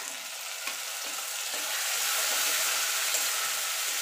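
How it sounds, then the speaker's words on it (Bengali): Ground spice paste fries with browned onions for a chicken and potato curry, giving a steady, close hiss and sizzle that swells slightly, with a few soft stirring knocks and no talk. "এবার মশলাটা মিনিট দিয়ে একটুখানি কষিয়ে নেব"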